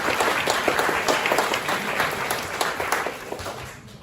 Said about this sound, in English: So just one more round of applause for the sponsors.